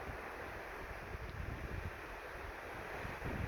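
Sea waves wash along a roadside beach at low tide, a steady, continuous surf roar with wind noise buffeting the microphone throughout, no voices present.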